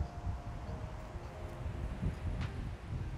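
Stormy wind on the Ilbarritz golf course buffets the microphone in a continuous low, gusty rumble, fairly quiet, with no talking.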